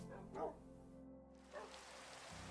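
A pet dog in a Minecraft game gives brief yipping barks over steady rain-like noise and background music, with a voice talking softly.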